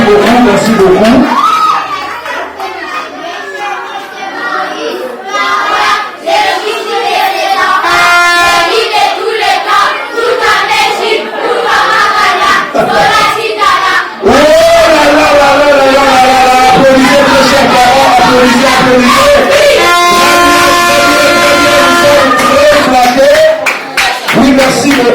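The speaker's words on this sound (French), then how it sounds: "Applaudissez mes chers parents, applaudissez, merci beaucoup" Parents at a nursery-school Christmas visit from Father Christmas clap and cheer loudly as a crowd, with someone talking over the applause on an amplified, echoing sound system and music partly audible in the background.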